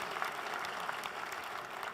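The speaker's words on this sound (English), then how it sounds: "a big round of applause for the successful people sitting here" An audience at an IBA alumni get-together applauds the successful graduates: a quiet, distant, continuous wash of many hands clapping.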